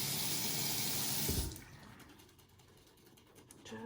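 Tap water runs loudly from a faucet to wet a makeup brush cleaner, a steady rush for about a second and a half that cuts off into quieter handling sounds.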